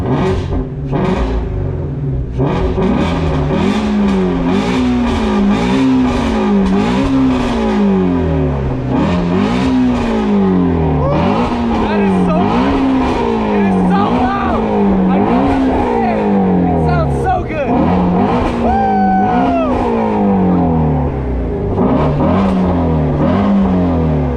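A Ford Mustang GT350 with its active exhaust valves open revs again and again in a loud, rhythmic series of snarling rises and drops, sharp crackles between pulls, with a voice talking over parts of it.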